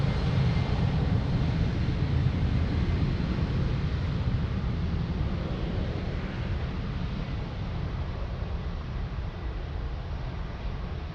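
A fixed-wing airliner roars steadily during its takeoff roll on runway 02 at Lisbon Airport, a loud continuous broadband engine rumble with some wind noise that holds unbroken and fades only slightly toward the end, with no talk.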